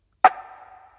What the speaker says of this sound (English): I was missing some punch and attack to the snare, so I added this one.